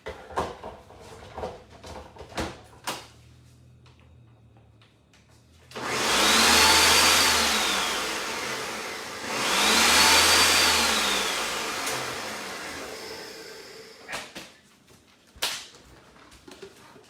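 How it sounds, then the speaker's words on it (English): An electric blender whirs through tofu in two loud bursts of about three seconds each, separated by a short pause, with quiet kitchen clatter before and after. "I'm just gonna whip it on my blender here quick"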